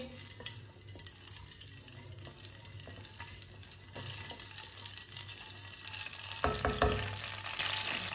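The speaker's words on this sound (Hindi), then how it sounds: "आधी चमची साबुत जीरा, आधी चमची साबुत धनिया, थोड़ा सा रोस्ट कर लेंगे।" Half a teaspoon each of whole cumin and coriander seeds roast in hot oil with a faint, steady sizzle, then a few louder stirring scrapes near the end; quiet overall, no talking.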